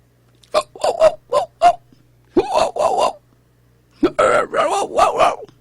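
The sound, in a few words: person imitating a dog barking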